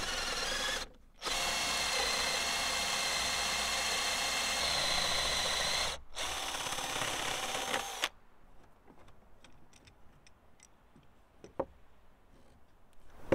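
A power drill bores holes into timber for tiny house shelving in two loud, steady bursts, the first briefly interrupted, followed by quiet clicks and taps once the drilling stops.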